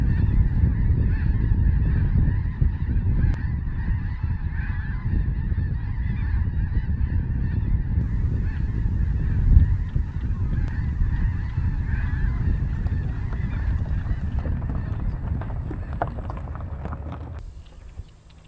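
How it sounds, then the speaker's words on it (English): A flock of greater white-fronted geese honks and calls continuously at a moderate distance in Louisiana in winter, overlapping cries rising and falling over a low rumbling background. "I got 37 greater white-fronted geese."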